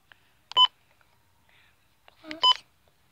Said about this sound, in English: Plus, do button beeps.